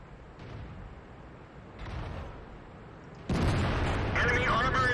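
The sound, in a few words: tank destroyer gun firing in World of Tanks video game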